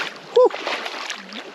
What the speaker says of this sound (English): I'm about to take my first dip in